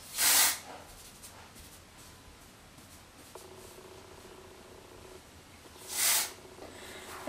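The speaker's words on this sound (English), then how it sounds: "I'm just going to spray some dry shampoo" Two short, loud hissing bursts of dry shampoo sprayed into hair roots, one at the start and one near the end, with quiet rustling between them.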